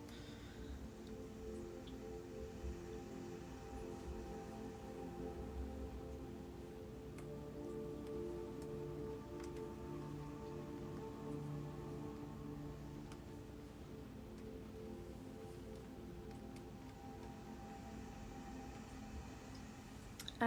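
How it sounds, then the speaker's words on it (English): Steady heavy rain falls outside in Vermont, a continuous even wash of drops with faint ticking detail, constant throughout with no talking over it. "but it's really raining."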